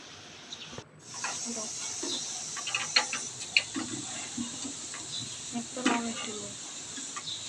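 Orange boondi batter sizzling in hot oil in a home kitchen, a steady bright hiss with scattered crackles and pops running throughout, close and fairly soft.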